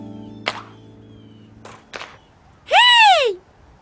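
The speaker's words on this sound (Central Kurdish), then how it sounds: "باوکی ڕاهێنانی بە کایۆ کرد و فێریە کرد چۆن بکێشێ بە تۆپەکە" A ball is kicked during soccer practice in a Caillou cartoon: a few dull, separate thuds spaced over two seconds, followed by a short, bright, swooping tonal cry.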